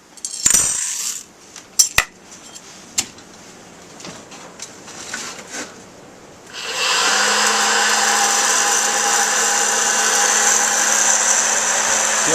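Half a cup of Colombian coffee beans roasting in a hot air popcorn popper, a rough handling clatter giving way to a steady, loud fan roar with a low motor hum and beans rattling as they spin.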